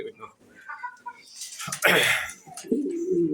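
Pigeons coo in soft, low, throaty calls at close range, mixed with someone talking over them.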